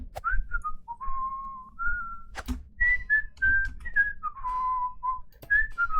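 A person whistles a meandering tune up close while playing a video game, with sliding pure notes and short pauses, plus a couple of sharp clicks in between.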